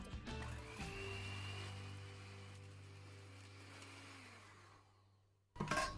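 An electric mixer whips cream with vanilla at medium speed for a keto strawberry sandwich filling, a steady loud motor whine that slowly drops before cutting off, followed by a brief clatter.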